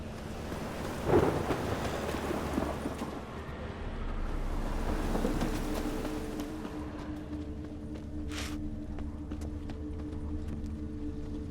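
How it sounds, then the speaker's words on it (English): Thunder rolls through a rainstorm in The Witcher video game, with a heavy rumble early on, steady rain hiss throughout and a fainter distant crack later, heard without talk. "The storm, damn it."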